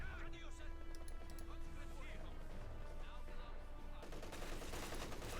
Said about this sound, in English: Guns being suppressed with the machine gun